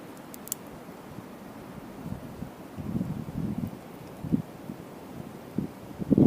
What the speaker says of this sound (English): The wind's going to help out.